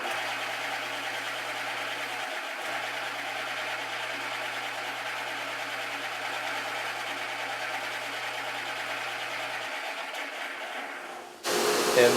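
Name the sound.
radius sander running on Stratocaster guitar kit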